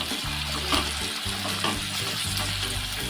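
Tomatoes sauté in hot oil for a Maharashtrian banana flower bhaji, giving a steady close sizzle with soft stirring and low rumbling underneath throughout.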